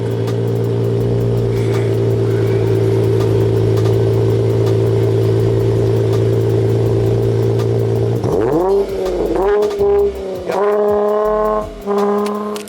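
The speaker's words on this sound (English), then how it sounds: "But now I want him to go ahead and turn on the car so y'all can hear the exhaust" A car fitted with a custom exhaust idles with a loud, steady low drone, then is revved several times in quick succession, each blip rising and falling sharply, close by with no talking.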